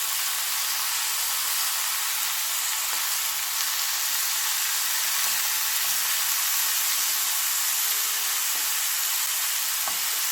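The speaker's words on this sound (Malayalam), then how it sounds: "ഈ ചെറിയ തീയിൽ നമുക്കൊരു 7 മിനിറ്റ് കുക്ക് ചെയ്യണം." Chicken tikka sizzles and fries in a pan on a low flame, a steady close crackling hiss that runs unbroken throughout, with a few faint clicks and no voices.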